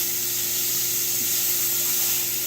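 Diced burger patty browns in a hot pan, giving a constant, even sizzle and hiss with a faint low hum beneath, steady and close for the whole moment with no voices.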